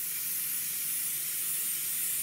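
An airbrush compressor and spray gun sprays paint in a steady, continuous hiss that stays even and close throughout, with no voices.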